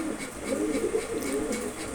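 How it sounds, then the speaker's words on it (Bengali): A pair of Putul Sobji Gorra pigeons coo softly and repeatedly at close range, their low, rolling calls overlapping in a steady murmur with no talking. "খুবই সুন্দর একজোড়া সবজি গররা কবুতর।"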